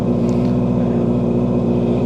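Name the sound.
motorcycle engine idling while warming up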